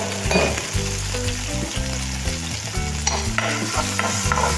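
Olive oil sizzling in a frying pan for a breakfast of egg and tomato, a steady close crackling hiss broken by scraping and stirring sounds, with no talking.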